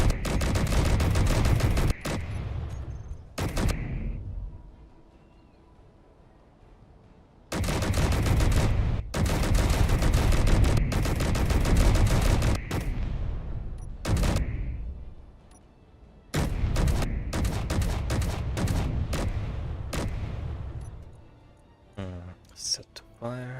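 A custom assault cannon turret in Space Engineers fires in loud, close bursts of rapid booming shots, several volleys separated by short pauses, with a voice speaking in between.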